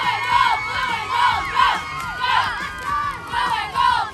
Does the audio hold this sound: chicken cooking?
no